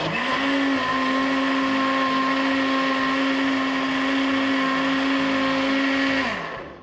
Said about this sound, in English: I'm just going to keep blending this until it's a consistency I want it to be.